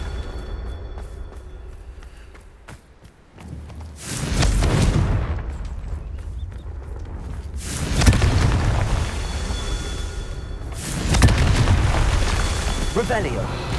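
Confringo fire spell blasts in Hogwarts Legacy land as heavy, booming explosions, with three big bursts spaced a few seconds apart, each trailing a rumbling roar, under game sound and scattered voice.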